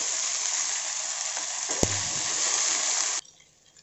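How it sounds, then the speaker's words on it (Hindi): Okra and onion fry in a pan over a high flame for onion bhindi, making a loud, steady close sizzle with one sharp clink partway through, then dropping abruptly to quiet near the end. "इसे भी तेज आंच पर 2 मिनट के लिए भूनेंगे, कंटिन्यूअस चलाते हुए तेज आंच पर भूनता है इसको"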